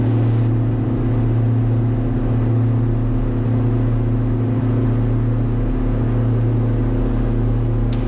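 A twin-engine light aircraft at full takeoff power accelerates down the runway at Salzburg, with a steady, loud engine and propeller drone and a constant cabin hum throughout, no talk heard.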